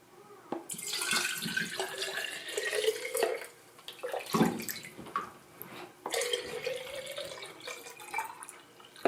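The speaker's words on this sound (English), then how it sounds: "And then I'm going to fill it with water." Water runs from a tap into a small container holding a plastic fishing lure, a steady splashing stream that pauses midway and then resumes, close and fairly loud.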